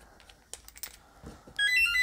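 An electronic phone ringtone trills with a repeating tonal pattern near the end, following some light clicks and handling noise during an air rifle fill valve service.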